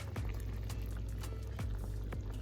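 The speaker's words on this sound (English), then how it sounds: "So it's been boiling for about 4 minutes now." Rice boiling in water in a saucepan, a close, steady bubbling and gurgling with occasional soft pops.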